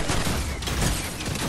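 A loud, constant rattle of Fortnite gunfire, overlapping shots blurring into a thick, noisy barrage over a brief moment.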